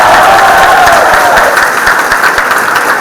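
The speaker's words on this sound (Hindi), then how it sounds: "इसके लिए जोरदार तालियां।" Loud, sustained audience applause at an award ceremony for NIMCET 2025 results, a dense roar of many hands clapping together, steady throughout with faint cheering.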